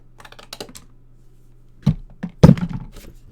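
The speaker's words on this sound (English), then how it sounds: "so I'm going to use my long scissors for that" Long scissors cut through card in a few crisp snips and dry crunching clicks, with a louder cluster of cuts toward the end and quiet pauses between them.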